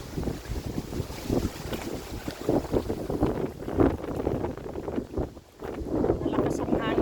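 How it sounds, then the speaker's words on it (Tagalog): Strong wind buffets the microphone on the sea, gusting in loud rumbling bursts over rough water, with someone talking throughout. "Malakas ang hangin eh."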